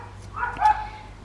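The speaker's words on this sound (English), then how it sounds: "I don't know what my dogs are barking at" Household dogs give a brief, muffled bark or yip at a distance, a single short burst with a quiet steady hum behind it.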